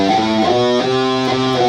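Distorted guitar riff in the Lydian mode with its raised fourth, a steady sustained chord with short melodic movements on top, loud and continuous for under two seconds.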